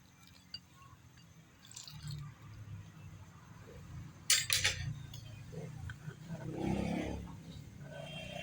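Ginataang hipon with malunggay being stirred in a pan, with soft scraping and wet squishing of the coconut-milk sauce against cookware, a few louder clinks and stirs amid faint kitchen background noise.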